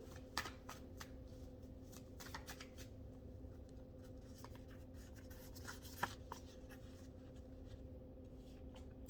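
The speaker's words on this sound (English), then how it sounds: "I'm going to pull one more card here to kind of wrap up that section of the reading." A tarot-style reading deck is shuffled and a card drawn, giving soft, quiet riffling and papery slides with a few sharper snaps over a steady low background hum, no talking.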